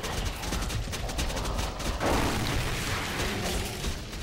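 Grenade explosions and gunfire in a sci-fi alien action video game, a steady loud barrage of shots with a heavier blast near the middle and continued rumbling fire afterward.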